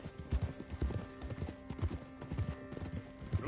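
Horse hooves clip-clop in a steady, quick rhythm at close range in Red Dead Redemption 2, with a faint whinny and low background noise.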